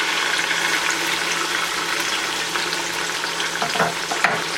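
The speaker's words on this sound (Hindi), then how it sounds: "फ्लेम हाई पर रखें और आपने इसको यहाँ पर इतनी अच्छी तरह फ्राई करना है" Chopped onions with ginger garlic paste fry on a high flame for mutton biryani, giving a loud, steady hiss and crackle with occasional stirring clatter, close up and with no talking.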